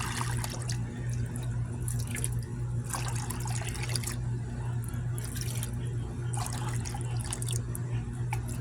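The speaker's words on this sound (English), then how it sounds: "I'm gonna pour some more water in there." Collected rainwater is poured into a container outdoors, giving a steady run of splashing and trickling that rises in bursts over a low background hum, with no one talking.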